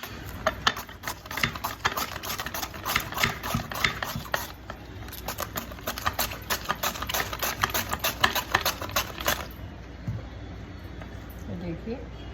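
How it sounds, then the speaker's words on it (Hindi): Cabbage is being shredded for spring rolls as someone talks. A fast, steady run of crisp cutting strokes carries on for about nine seconds, then stops. "ये देखिए कैबेज को मैं श्रेड कर दूँगी।"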